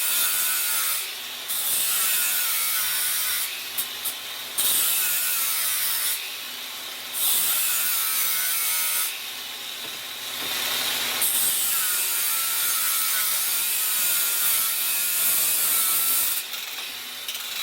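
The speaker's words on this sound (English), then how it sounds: "I'm using a grinder with a flapper pad" A grinder fitted with a flap disc shaves down a part on a mud mower, a loud continuous harsh whir with several short dips and restarts, up close.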